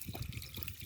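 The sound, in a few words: water poured into a water pump to prime it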